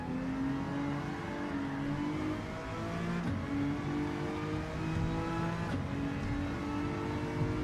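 A race car engine in Gran Turismo 7 drones and revs continuously through an online league race, with shifting pitch, brief tire squeal and no voices over the steady engine noise.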